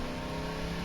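Car engine in Voices of the Void with the handbrake released, a steady droning hum as it climbs a hill, close and continuous without a break.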